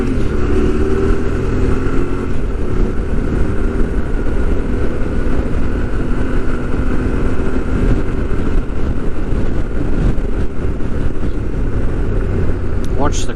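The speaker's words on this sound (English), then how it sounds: "You certainly give the bike a few beans down here if you want to." A Yamaha Tenere 700 motorcycle cruises along a country road in the Southern Vales of South Australia, its engine a steady, loud drone mixed with wind rush and a voice speaking under it.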